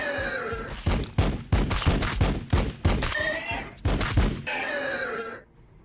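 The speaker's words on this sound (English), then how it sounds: "Firing on the enemy." Rapid bursts of heavy gunfire in a grim far-future Warhammer 40K battle game, around a dozen loud booming shots in an uneven rhythm over a droning battlefield bed, cutting off abruptly near the end.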